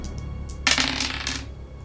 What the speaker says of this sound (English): I'm beginning to think you have some loaded dice over there, Obama